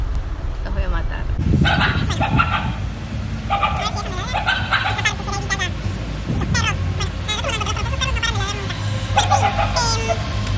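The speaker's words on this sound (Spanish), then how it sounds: "Están ladrando los perros." Dogs bark in repeated bursts nearby while a person talks over them continuously.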